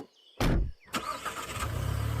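Cartoon car engine starting: a short sputtering crank burst, a pause, then a second catch that settles into a low, steady idle hum, fairly quiet overall.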